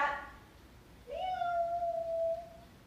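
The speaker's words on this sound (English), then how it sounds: "And look, here's my cat. It's like she knew." A house cat gives a single drawn-out meow, clear and fairly close, rising then holding steady for over a second against a quiet room.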